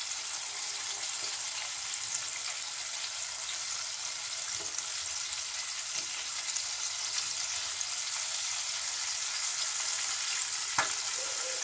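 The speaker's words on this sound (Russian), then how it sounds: "Сначала оно сильно шипит, ну, возле мяса шипит, потому что много влаги, а потом меньше, меньше, меньше." Chicken wings fry in hot oil with a steady, even sizzle and fine bubbling crackle, close and constant throughout, with a few faint clicks and no talking.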